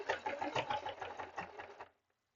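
A sewing machine top stitches stiff fabric in a quick rhythmic run of needle thumps lasting about two seconds, close and fairly quiet, then stops to silence.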